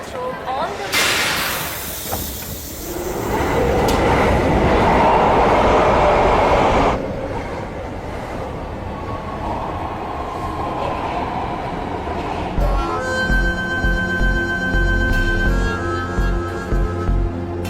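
A metro train rumbles and hisses along the track, loud and steady, with the roar swelling mid-way before settling into a humming carriage interior; voices are heard in the car.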